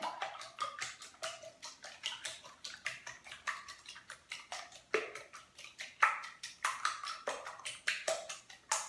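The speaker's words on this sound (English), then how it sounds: "So I'm just going to whisk up the eggs a little bit." Eggs being whisked in a bowl for a frittata, a fast, steady run of light clicking strokes that carries on without pause, close and fairly quiet, with no talking.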